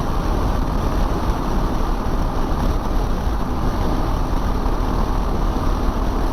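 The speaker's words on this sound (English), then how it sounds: "This bike right now, the speed's going up and I'm in 5th gear, so that's pretty good." Kawasaki KLR 650 motorcycle, a 2022 model, pulling uphill in fifth gear, heard as a steady, dense engine and wind roar with no break in level.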